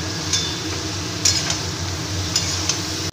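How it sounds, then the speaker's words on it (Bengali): Vegetables and spices are stirred in a frying pan for a dried-fish curry, with a steady close sizzle and a few light clinks and scrapes of a spoon against the pan, and no talking. "আস্তে আস্তে আমি সব সবজিগুলো দিয়ে নাড়াবো।"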